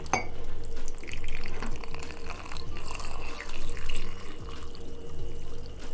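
Liquid poured into a cup for hot cocoa, a close, continuous trickling and splashing stream with faint glassy clinks, steady throughout.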